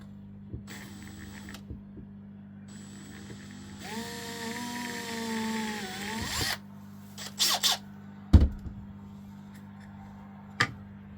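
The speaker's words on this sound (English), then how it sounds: "So what I'm going to do is drill a little hole just in there" A power drill bores a small hole in a switch panel for a Fourtrak, a whining motor burst of about two seconds with rising pitch, surrounded by quieter taps, clicks and a steady mains hum.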